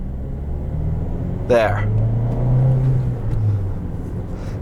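A 2016 Jeep Renegade Latitude with a manual gearbox revs toward 1,500 RPM, a low cabin rumble that swells and holds while someone talks over it.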